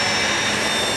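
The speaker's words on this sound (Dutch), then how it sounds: "Dat is het vliegtuig waarmee wij naar Lubumbashi vliegen." A jet airliner's engine roars loudly and steadily at close range on the apron of an airport in Kinshasa, with a constant high whine over the rumble.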